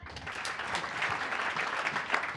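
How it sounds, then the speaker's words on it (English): Audience applause at a talk on product strategy, a steady wash of clapping held at moderate level for a couple of seconds. "Big applause."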